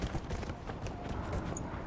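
Horse hooves clip-clop in quick, steady, galloping beats in the video game Dragon Age: Inquisition, fairly faint over a soft game background.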